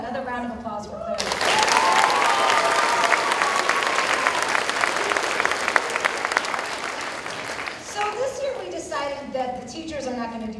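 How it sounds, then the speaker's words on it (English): Audience at a school's fifth grade completion ceremony bursts into sustained applause, loud and steady for several seconds before tapering off, with a speaker's voice before and after. "Please, another round of applause for Claire."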